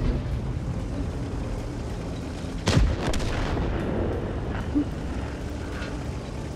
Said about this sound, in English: This is what artillery is for.